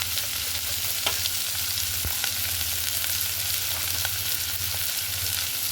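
Fish fat fries in oil in a pan, giving a steady hiss with dense crackling and a few sharper pops, close and moderately quiet, with no talking.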